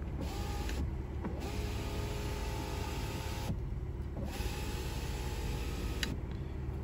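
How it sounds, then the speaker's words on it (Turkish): Electric power window motors of a 2020 Mercedes GLA whir steadily inside the cabin, with short pauses where the motor stops and restarts, under a constant high-pitched hum and no talking. "Camların çalışması bana farklı geldi. Bak, sese bakar mısınız?"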